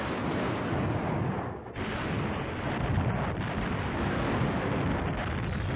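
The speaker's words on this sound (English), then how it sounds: "We have an airstrike available." Airstrike explosions in Command Ops 2 rumble as a dense, continuous barrage of loud blasts, sustained and heavy with a brief dip midway, with no voices over it.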